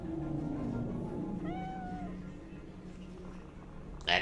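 A cat meows once in Cyberpunk 2077, a short rising-falling cry heard over a low ambient game soundtrack and murmuring background voices.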